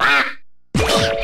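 Two cartoonish duck quacks from the You Don't Know Jack trivia game, close and loud, split by a brief silent gap.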